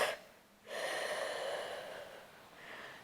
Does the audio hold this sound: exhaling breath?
yes